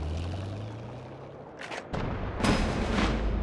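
Artillery cannon fire in a WWII RTS game, with a couple of deep booming blasts and a rumbling roar that follow low background game noise, loud and close.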